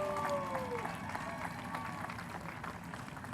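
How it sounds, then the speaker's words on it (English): A film festival awards ceremony audience gives a round of applause, a soft, distant wash of clapping after a brief tonal sound at the start. "So please give a round of applause to deadCENTER and Alicia Lee Master"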